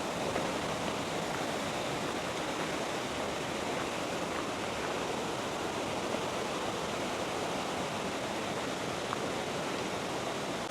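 A roaring waterfall, Mae Wa Falls in Mae Wa National Park, Lampang, Thailand, fills the air with a dense, steady rush of falling water over large boulders, loud and close, with no voices over it.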